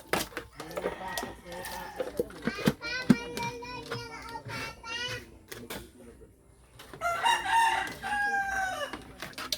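Chickens clucking and a rooster crowing on a small farm while water is fetched for the flock, the calls rising in bursts at moderate distance, with a person talking intermittently throughout.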